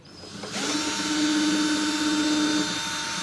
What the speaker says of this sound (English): And I'm going to drill,